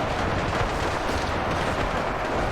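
Massed gunfire from a battle in UEBS2 between German and US forces at the pyramids crackles densely and without pause, a loud unbroken wall of overlapping shots.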